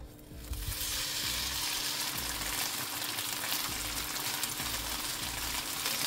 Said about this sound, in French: Maintenant, je vais faire revenir à la poêle.